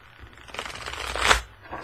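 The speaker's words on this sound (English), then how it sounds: "Even Jennifer can shuffle these cards" Mini tarot cards being shuffled, a short close papery riffle that builds to a crisp burst and then stops, with no speech.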